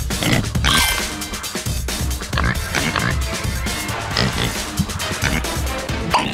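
Pigs oink and squeal in Slaughterhouse Escape, loud and close among busy game clatter and thumps, with short grunts repeating over the whole stretch.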